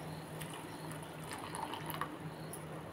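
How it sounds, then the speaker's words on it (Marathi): Warm milk is poured into a pot of water at a rolling boil, a faint, quiet liquid trickle and gurgle running steadily for a few seconds. "ह्याच्यामध्ये आपल्याला दूध ओतून घ्यायचंय."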